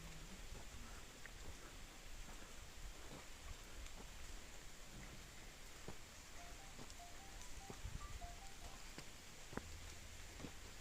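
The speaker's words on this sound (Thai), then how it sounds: "ฝนกำลังลงเม็ดเลย" Rain falls steadily at a Thai forest temple near a flooded tunnel entrance, a dense even patter of drops with occasional louder drips on nearby surfaces throughout.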